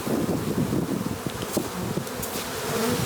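Honey bees buzz densely around an open hive at an apiary, a continuous close droning swarm with no voices.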